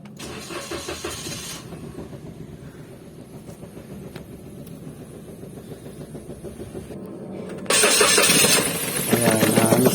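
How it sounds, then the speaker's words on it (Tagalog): A Toyota Wigo engine with a check engine light runs roughly with a misfire, its uneven pulsing idle close and steady before revving up louder near the end. "misfiring, palyado"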